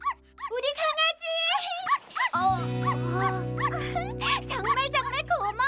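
A small dog yips and barks excitedly in quick bursts over cheerful music in the children's cartoon Franklin, with voices talking.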